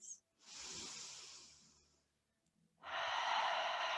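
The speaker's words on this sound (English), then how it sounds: "Few breaths." Slow, audible breaths during a standing yoga pose: a long soft exhale, a pause of near silence, then a stronger, steady breath, close and clear with no talking.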